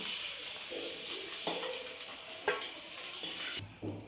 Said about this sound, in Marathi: तर हे अंडे छान आपले फ्राय झालेले आहेत